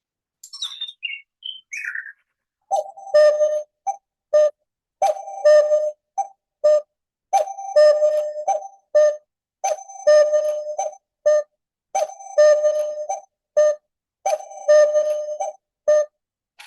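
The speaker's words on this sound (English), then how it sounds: "It cuckoos 10 minutes after the hour." A Temu cuckoo clock chimes its hourly call, a repeated two-note cuckoo sequence sounding in regular bursts, loud and close, preceded by a brief higher chirp, with no talking.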